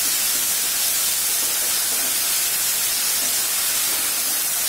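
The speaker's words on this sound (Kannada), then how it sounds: "ಈಗ ಇದು ಒಂದ್ ಸ್ವಲ್ಪ ಗೋಲ್ಡನ್ ಬ್ರೌನ್ ಕಲರ್ ಆಗೋವರೆಗೂ ಹೀಗೆ ಫ್ರೈ ಮಾಡ್ತಾರೆ." Onions sizzle in hot oil in a pan for an egg curry, a steady, bright hiss that stays loud and unbroken from start to finish.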